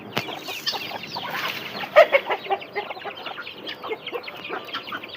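Hens clucking inside a chicken coop, a busy cluster of close, repeated clucks and short calls with soft rustling.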